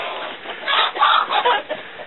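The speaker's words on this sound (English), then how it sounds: "And then this is my chicken coop." A hen on a hobby farm clucks in a chicken coop, several close, soft clucks in quick succession over a short stretch.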